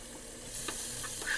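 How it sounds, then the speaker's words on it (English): Half a cup of onions sizzles in a pan as they are stirred, a quiet hiss that swells after the first half second, with a few faint scrapes and clicks of stirring. "pour our 1/2 cup of onions in the pan. Going to stir those around for a little bit"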